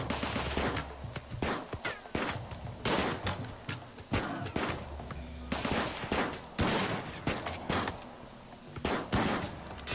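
Repeated bursts of gunshots from the colony-management game Rimworld, loud sharp cracks in irregular volleys across the whole stretch, with no talking.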